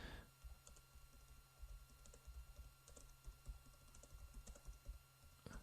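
A computer keyboard is tapped in a steady, quiet run of keystrokes while someone types a tip, with no talking.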